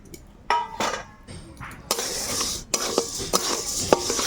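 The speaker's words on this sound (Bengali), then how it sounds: "মুগ ডালগুলো দিয়ে আমি ভেজে নেব ভালো করে।" Moong dal stirred and dry-fried in a pan, scraping strokes and rattling grains that start sparse and turn into a denser, continuous scratchy rustle with occasional metallic knocks.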